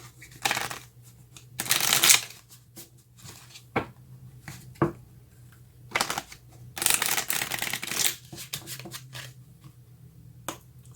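Tarot cards riffled and shuffled in repeated bursts, crisp and close, with short pauses and taps between them and no talking.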